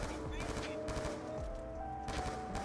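Burst-fire gunshots from a weapon in Black Ops 2 Zombies gun game crack out in quick clustered volleys, fairly close and loud, over a busy game soundscape.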